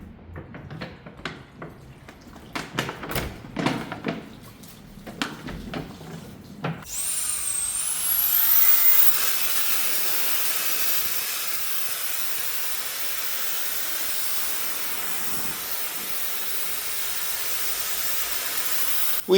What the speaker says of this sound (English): With air blaster mode, delivers powerful air bursts to dislodge dust and debris from hard to reach